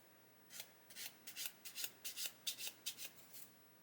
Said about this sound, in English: just gently sand away until the sprue nib disappears